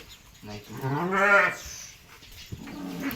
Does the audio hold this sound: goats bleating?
yes